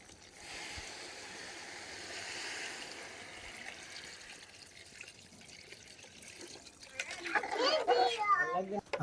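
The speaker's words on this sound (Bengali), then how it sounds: "আমাদের পানি অ্যাড করে দিব।" Water pours into a pot of cooking vegetables over a village cooking fire, a rushing splash that grows louder near the end, while voices and children's chatter carry on in the background.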